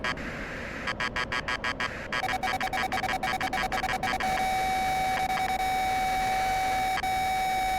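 A dogfight-mode warning tone in a simulated aircraft cockpit: a rapid string of sharp electronic beeps that quickens into a fast pulsing pattern, then settles into a steady high continuous tone over engine hiss.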